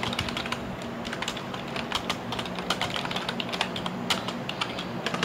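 Rapid typing on a computer keyboard during a typing speed test, a dense, even stream of close key clicks with no talking.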